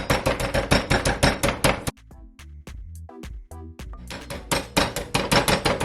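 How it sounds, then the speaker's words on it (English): A meat mallet flattening chicken breast: rapid, heavy pounding blows, a brief pause with a few scattered thuds, then another fast burst of steady hammering close by. "I'm gonna use one of these food hammer and just smash it"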